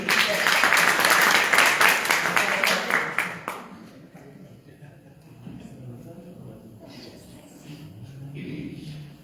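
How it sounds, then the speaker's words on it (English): An audience at a Shri Ram gathering bursts into loud clapping that fades out after a few seconds, leaving quieter room noise and a voice speaking. "let's give him a round of applause too"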